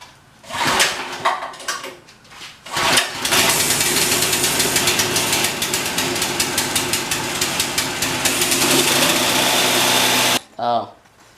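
Small engine on a Willys Jeep-styled go kart, pull-started and then running, with a few sharp pull-cord yanks before it catches and revs loudly and steadily at full throttle for several seconds, then cuts off abruptly.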